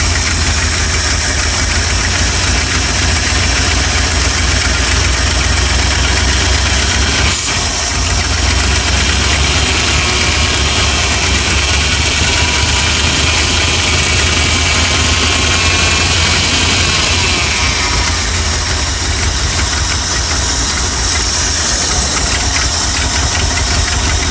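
A Dodge D600 truck engine with a newly rebuilt carburetor and an exhaust leak runs loud and close. It gives a continuous rough, knocking idle with a brief thump partway through.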